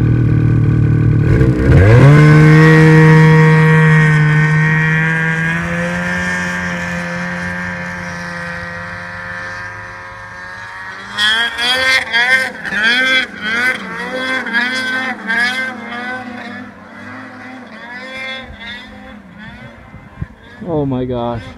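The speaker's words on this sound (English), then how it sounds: "ride's going up." An amusement ride starts going up with a loud, steady mechanical whine that climbs in pitch and then holds, followed by rhythmic clattering, as people talk nearby.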